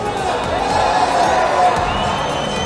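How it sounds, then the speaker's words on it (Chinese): Spectators cheering and shouting at a short-track speed skating 3000 m relay, a dense, steady roar of crowd noise filling the arena with no single voice standing out. "场上的观众也是欢呼声不断"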